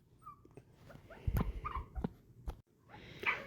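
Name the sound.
puppy whimpering to come in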